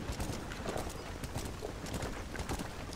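Horse hooves clop steadily in the video game Red Dead Redemption, a dense rhythmic patter of several horses close by over continuous ambient noise.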